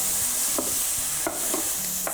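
A Tex-Mex stuffed-pepper filling stirred in a pan, a continuous hiss of sizzling with a few distinct spoon scrapes and knocks against the pan at irregular intervals, close and fairly loud.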